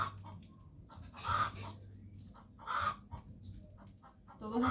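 Backyard hens cluck nearby in short bursts and soft murmurs, with a few louder squawks rising over a low steady background.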